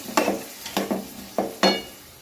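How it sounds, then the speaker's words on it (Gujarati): Boiled green peas are mixed into a masala frying in oil, four distinct scraping strokes of a spoon against the pan over a low sizzle, close by with no speech. "હવે આપણે બાફીને મૂકેલા વટાણા નાખી દઈશું અને આને સરસ મિક્સ કરી લઈશું"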